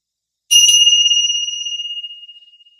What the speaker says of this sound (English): And then when you hear the bell,